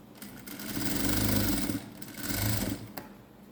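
A sewing machine stitches patti cloth in two bursts of rapid whirring, separated by a brief pause, close and clear with no talk.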